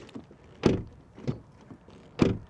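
Front door of a 2016 Volvo XC90 D5, three distinct thuds: two firm closing knocks and a lighter one between, close by with no talk.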